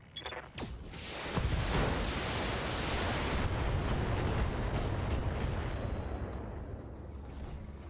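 Mech weapons firing in the BattleTech game: one sharp blast, then a sustained, roaring wash of explosive noise that slowly fades over several seconds.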